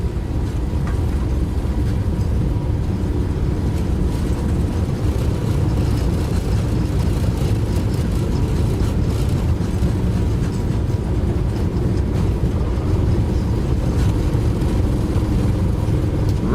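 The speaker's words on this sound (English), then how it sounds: "Check out the engine sounds, guys." Boeing 777-200ER jet engines spool up for takeoff in the X-Plane 12 flight simulator, a steady, loud, broadband roar that holds without a break, with no talking over it.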